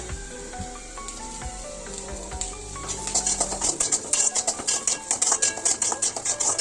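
Cut ginger and four or five garlic cloves sautéing in a hot pan for egg gravy, a steady sizzle with scraping stir strokes that grow louder and busier partway through, no voices over it.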